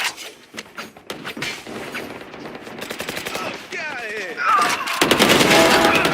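Rapid bursts of video game gunfire in a competitive esports match, loud and sustained with fast automatic rattles layered over shifting effects, while a commentator's voice talks over parts of it.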